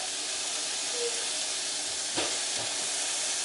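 Ground beef browning in a pan for baked spaghetti gives a steady, loud sizzling hiss throughout, with a brief scrape or clatter of the meat shifting near the middle and no talking.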